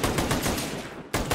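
Rapid automatic gunfire in the battle royale game Radical Heights, dense bursts of close shots filling most of the moment before a brief gap and another burst.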